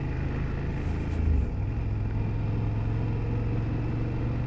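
A 2024 BMW F800GS motorcycle being ridden, its mid-pitched engine holding a steady, moderate drone under constant wind and road rumble, with a slight surge early on.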